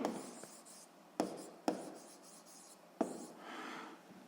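Hand writing during a 7th-grade physics exercise lesson: continuous scratchy strokes with a few sharp taps of the writing tool, close and fairly quiet, no voices.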